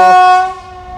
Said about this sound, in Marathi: अरे ट्रेन आली.